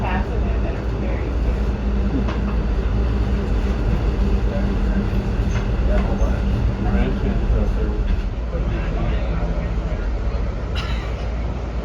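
An Amtrak Southwest Chief passenger train climbs through Cajon Pass in the San Bernardino Mountains, heard from aboard as a steady, loud rumble of wheels on track with rattling car noise throughout, and faint voices beneath.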